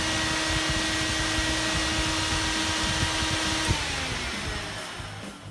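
A car's electric radiator cooling fan runs with a steady, close whirring rush and a thin tonal whine, then gradually winds down and fades toward the end.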